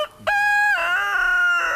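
A rooster on a Mississippi farm crows once, loud and close, in a long drawn-out cock-a-doodle-doo with rising and falling pitch, heard alone.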